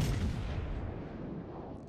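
Naval gunfire in World of Warships, ships' guns firing at a North Carolina battleship, a heavy booming blast that decays over a couple of seconds, with no speech.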